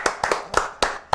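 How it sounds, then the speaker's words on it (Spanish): Five sharp handclaps ring out close by in an uneven rhythm during a casual Spanish-language rap chat, with no voices over them. "aplauso para él."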